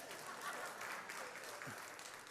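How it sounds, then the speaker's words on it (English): Applause from a church congregation during a Sunday sermon, a steady wash of clapping filling the room at moderate distance for a couple of seconds, with no talk over it. "go ahead and clap, you can."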